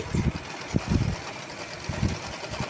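A sewing machine stitches a blouse sleeve in short uneven bursts of rapid mechanical chatter close by, with brief pauses between runs.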